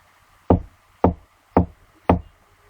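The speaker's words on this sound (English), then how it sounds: "a tap at the door." Four firm raps on a wooden door, evenly spaced about half a second apart, close and clear against a quiet background.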